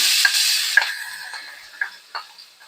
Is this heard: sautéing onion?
yes